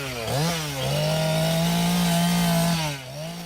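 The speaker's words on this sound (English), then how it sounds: "Chainsaw Mama turns dead trees into art pieces" A chainsaw cuts into a dead tree being carved into sculpture, its engine holding a loud steady drone that dips and rises at the start and end of the cut.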